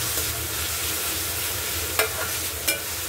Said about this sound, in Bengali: এবার এখন পেঁয়াজটাকে ভাজতে থাকি, পেঁয়াজটা ভাজা হোক।